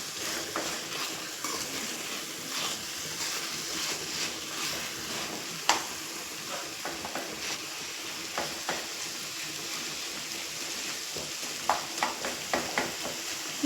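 Chicken being stirred in a pan with tomato, onion and masala, a steady close sizzle of frying with scattered scrapes and clinks of a spoon against the pan.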